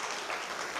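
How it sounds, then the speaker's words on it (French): Audience applause at a community awards event in Montreal, a brief steady wash of many hands clapping at moderate distance. "Oui, on peut l'applaudir."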